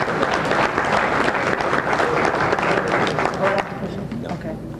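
Dense applause from a banquet crowd fills the room steadily, then thins and eases off near the end, with voices mixed in underneath.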